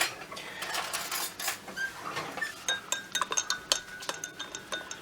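A mixture being stirred together in a container, with rapid irregular clinks and taps of a utensil against the sides, close and fairly quiet, growing busier toward the end.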